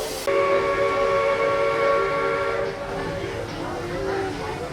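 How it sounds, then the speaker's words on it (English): A train horn sounds a sustained harmonic blast for a couple of seconds amid rail noise, then fades into the rumble of a train arriving at a station at Disney World. "as the new train pulls up, I want to get it going toot toot"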